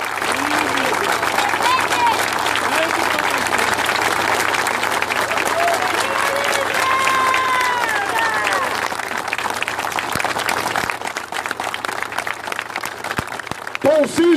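Sustained applause and cheering from a large crowd at the Lula Livre camp in Curitiba, a minute of clapping in tribute to Paul Singer, dense and steady with scattered shouts throughout.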